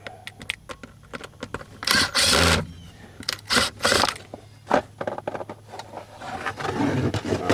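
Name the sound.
pulling a cup holder out of a 1993 Ford F150 console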